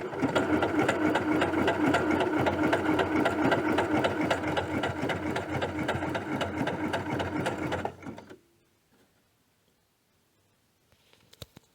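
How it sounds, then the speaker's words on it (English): A sewing machine running a zigzag stitch, a steady fast whirring hum with rhythmic needle chatter, close and loud for about eight seconds, then stopping abruptly into near silence with a few faint clicks. "So I'd like to try and give you all a close-up of this zigzag stitch."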